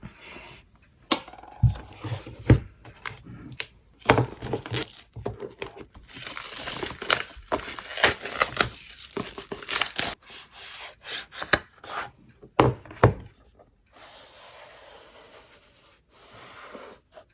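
Cardboard rubs and scrapes in bursts, with crinkling packaging and a few sharp taps as a cardboard box of pencils is worked open, close up with no talking.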